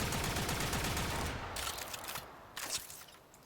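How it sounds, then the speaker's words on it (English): Rattleguts automatic pistol firing in Warframe, a rapid dense stream of shots that tapers off, followed by a couple of short bursts. "You aim and you shoot. It's an automatic pistol."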